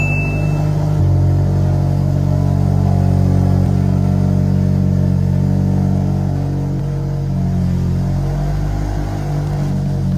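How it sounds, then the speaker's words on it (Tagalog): A Mazda Miata with a full exhaust runs after a push start, giving a loud, close, steady engine rumble with slight revving and some clatter, and no talk over it. "start natin guys dito, push start. Naka full exhaust."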